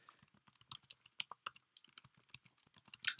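Someone types quickly on a computer keyboard during a live coding session, producing a dense, uneven patter of crisp clicks and key thuds close to the microphone, with no speech.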